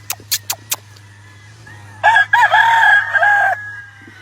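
A Harold Brown Blue Face Hatch gamefowl rooster crows once, loud and close, in a long drawn-out call, after a few sharp clucks or knocks and over a steady low hum.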